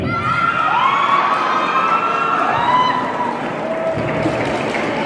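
Crowd cheering and shouting at a regional pageant as the first princess is crowned, loud and continuous with high excited voices throughout.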